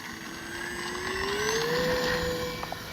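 A Kavan Bristell B23 RC airplane takes off, its motor making a steady whine that slowly rises in pitch and holds over about three seconds, fairly close and continuous with no talk.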